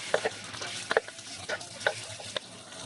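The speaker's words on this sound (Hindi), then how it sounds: "पैन में हमने 2 टेबलस्पून ऑयल ले लिया है। अब हम लहसुन और हरी मिर्चों का मिक्सचर ऐड करेंगे।" A garlic and green chilli mixture hits hot oil in a pan, giving a soft sizzle with a few quick stirring clicks over about three seconds, quiet and close.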